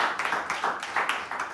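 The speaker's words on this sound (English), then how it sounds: "give them a round of applause for that" Audience applause after a health care presentation in Ghana, a burst of many hands clapping in a dense, steady patter of moderate loudness with no voices over it.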